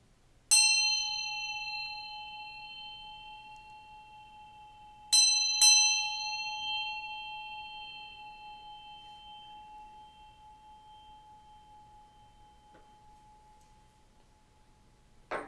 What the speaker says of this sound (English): I'm going to go ahead and ring this bell just to kind of adjust the energies